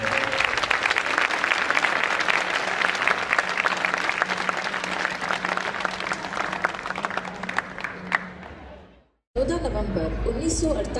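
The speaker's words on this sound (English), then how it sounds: "request everyone to give a huge round of applause for all the COVID warriors" A large school audience gives a long round of applause for COVID warriors at an annual school event, dense loud clapping with cheers that cuts off abruptly, followed briefly by other sound.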